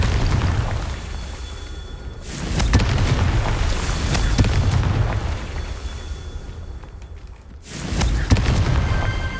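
Blasting-spell explosions in the video game Hogwarts Legacy, loud booming bursts with rumbling tails that come in several waves, close and forceful, with no talk.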